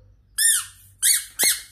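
A squeaky toy is squeezed three times, producing sharp, high, honking squeals: one longer squeak, a pause, then two shorter ones in quick succession, close and loud.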